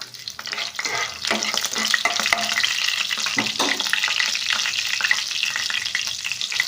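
A dried red chili frying in hot oil for a tempering, with a dense continuous sizzle and crackle plus occasional scraping stir strokes, close and fairly loud with no talking.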